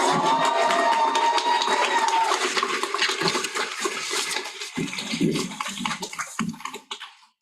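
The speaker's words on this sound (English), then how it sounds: "I want them to clap hard and loud here" A graduation ceremony audience claps hard and loud in a dense, sustained wash of applause that gradually thins into scattered claps before fading out.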